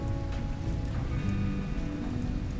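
Rain falls steadily in the Rimworld video game, a dense, even patter of drops on a surface that holds constant throughout with no voices.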